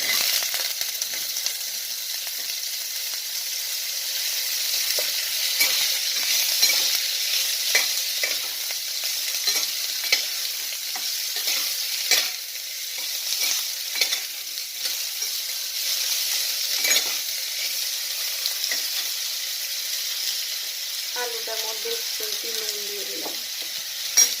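Potatoes and pointed gourd fry in a pan with a dab of ghee, giving a continuous close sizzle broken by frequent spatula scrapes and taps as the vegetables are turned, with no voices.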